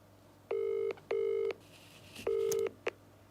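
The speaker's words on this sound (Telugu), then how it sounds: "సార్ కాల్ చేస్తున్నాను." Three clear touch-tone beeps from a telephone keypad as a call is dialed, each sustained tone lasting about half a second, followed by a short click, in a quiet room.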